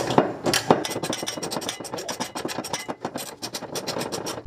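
Bolt being tightened by hand to press a new bushing into a car differential, giving a steady run of rapid ratcheting clicks and scraping rasps, close and fairly loud, with no talk.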